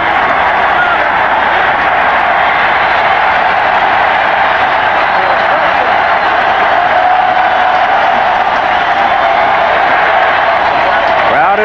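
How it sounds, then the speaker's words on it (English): A football stadium crowd at a 1985 Birmingham Stallions vs Jacksonville Bulls game roars continuously with loud, dense cheering throughout. "Crowd is up."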